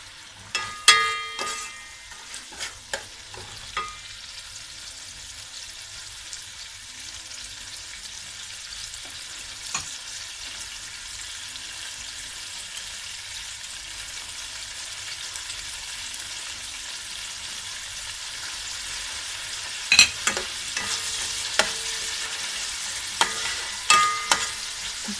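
Spice masala fries steadily in a pan for kabuli chana khichdi, a soft continuous sizzle with scattered light clicks and stirring taps, a little louder near the start and the end.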